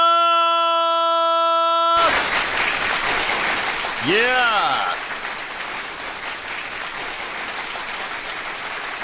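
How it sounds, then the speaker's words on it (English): Studio audience applause for a guest on a dating-advice show: a dense, steady wash of clapping that swells in right after a sustained musical chord cuts off, with a rising-and-falling sweep briefly overlapping and a voice saying a word over it. "Another big round of applause for you, Anna!"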